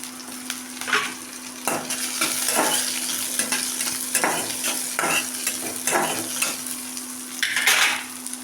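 Onions sizzle steadily in a pan for rasam, with repeated scraping stir strokes cutting through the constant frying hiss, fairly loud and close.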